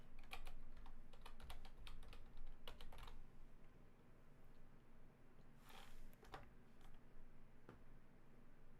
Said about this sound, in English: I just got this new keyboard and I like it, but it's kind of hard a little bit to hit the buttons cleanly without catching other buttons